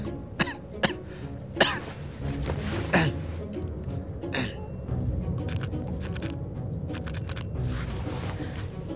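A woman in a car gives several sharp coughs and throat clears, close and distinct, spaced through the first few seconds over a low engine hum, with scattered small clinks afterward.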